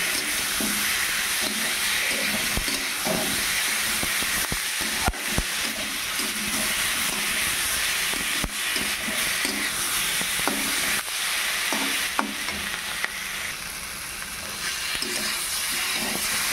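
Egg curry masala sizzles and fries in a pan with a continuous hiss, broken by occasional scraping clicks and knocks as it is stirred, loud and close with no voices.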